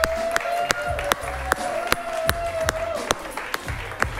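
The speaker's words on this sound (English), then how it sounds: "applaud for them as they come in." An improv comedy show audience claps as the performers walk back in. The claps come as sharp, fairly regular beats, with a held voice-like tone and crowd murmur under them.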